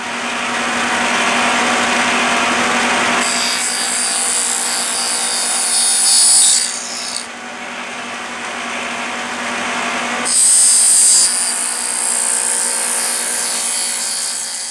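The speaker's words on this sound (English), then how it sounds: "I've added a couple of blades to my dado head." A table saw fitted with a stacked dado head mills tenons on wooden cabinet end parts: a steady motor whine under two loud cutting passes, each a harsh roaring bite into the wood, near and without talk.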